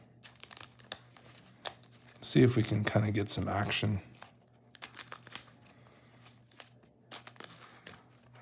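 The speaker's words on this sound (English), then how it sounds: "So let's do a little shuffling." A deck of Magic trading cards is shuffled in one brisk papery riffle lasting under two seconds, surrounded by quieter card handling and a person talking.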